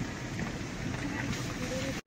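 Steady rain falls near a dam in Satara, Maharashtra, as a dense, constant hiss of drops that cuts off abruptly at the very end.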